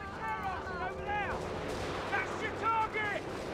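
Gunfire and explosions ring out in a Company of Heroes 3 battle, with repeated bursts under an excited voice shouting over the action.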